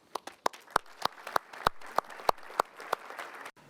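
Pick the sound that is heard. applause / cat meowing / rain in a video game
applause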